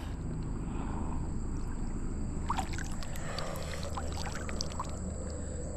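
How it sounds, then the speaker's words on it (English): Water splashing and pouring over a dug-up metal relic as it is rinsed outdoors, a steady wash of sloshing with brief trickling splashes partway through. "Let me rinse it some more."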